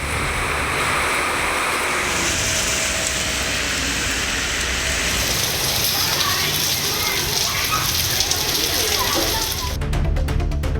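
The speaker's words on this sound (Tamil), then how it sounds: "திருச்சி மாவட்டத்தில் பல்வேறு பகுதிகளில் பெய்த மழையில் நனைந்து சிறுவர்கள் கூத்தாட்டம் போட்டனர்" Rain pours across parts of Trichy district, where children play in the downpour, a dense, steady hiss of water drumming on surfaces, close and unbroken, with faint clicks near the end.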